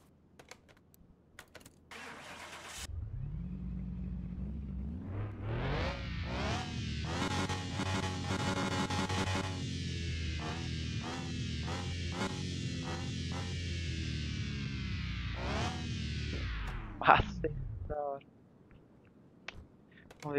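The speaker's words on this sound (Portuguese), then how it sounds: "Escutar o barulho do motor." A restored car's engine in Car Mechanic Simulator 2021 starts and runs steadily, revving up and down several times before shutting off, preceded by a few clicks.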